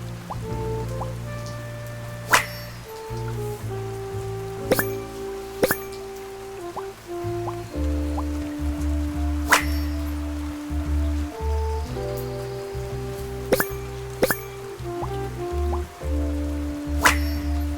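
Rain falls in the video game Duck Detective: The Secret Salami, with scattered drips and drops over a steady wet patter, while a low soft musical tone shifts underneath throughout.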